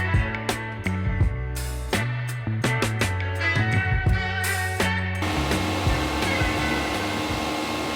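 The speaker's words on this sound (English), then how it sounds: "exciting times for the diesel heater." A diesel heater runs inside a van, giving a steady mechanical whir with clicks and brief knocks, after which a louder broadband rush of blowing air takes over.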